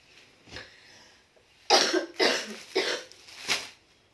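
A woman with a cough coughs several times in short bursts, close and fairly loud, after a quieter cough at the start.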